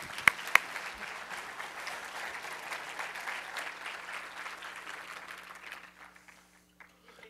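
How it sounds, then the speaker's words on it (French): A church congregation claps steadily in a dense, reverberant wash of applause that gradually thins and fades out toward the end. "Est-ce qu'on peut les applaudir"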